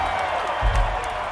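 A stadium crowd at a concert in Atlanta roars and cheers continuously, with a louder swell of whooping partway through the short stretch.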